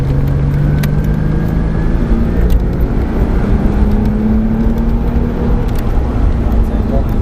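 Race kart engine held at full throttle during a lap of Mondello circuit, a loud, continuous buzzing drone with slowly rising pitch and steady road and wind noise.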